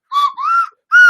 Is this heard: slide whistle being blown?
yes